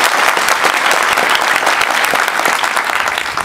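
Dense, loud applause from a crowd at a Shiv Sena party gathering in Madhya Pradesh, a steady wash of many hands clapping close by for several seconds with no voices over it.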